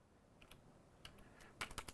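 Keys tapped on a computer keyboard, a few scattered quiet clicks followed by a quick close burst of several keystrokes near the end.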